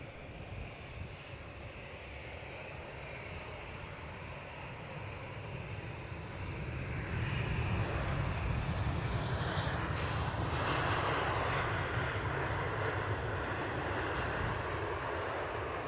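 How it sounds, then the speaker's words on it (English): A British Airways airliner arrives at Edinburgh Airport, its engine roar building from a steady distant rumble to a louder, fuller sustained drone over the second half. "British Airways inbound."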